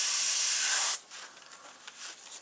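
Red spray paint hisses from a can onto the gills of a mounted walleye in one steady, close burst that lasts about a second and then cuts off, leaving faint room noise.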